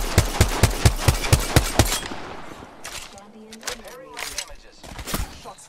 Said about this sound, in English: The sniper's still trying to shoot us in the back somewhere.